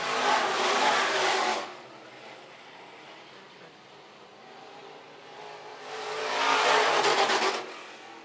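Sport mod race cars roar past on the oval at Phillips County Raceway, two loud engine passes several seconds apart with a quieter stretch of distant engine noise between them.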